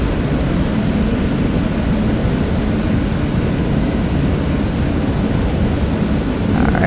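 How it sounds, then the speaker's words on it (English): A steady, loud drone from a small airplane's engine on its takeoff roll, constant and unbroken, heard alone without talk. "Alright, 90 knots, we can take off."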